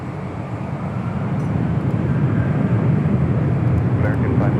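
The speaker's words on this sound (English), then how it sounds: "Our next departure here on the south side, Philippine Airlines Flight 113 heading to Manila. It's a 777-300ER" Philippine Airlines Boeing 777-300ER, six years old, departing LAX on the south side for Manila, its engines a steady broadband roar from a distance, with faint radio chatter and talk over it.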